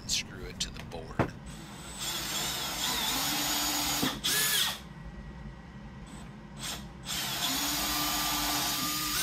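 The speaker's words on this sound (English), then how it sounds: "I pre-drill the holes and screw it to the board" Several bursts of a power drill whirring at close range, pre-drilling holes into a board for cat wall shelves, spinning up and stopping between quiet pauses, with a hum of background noise.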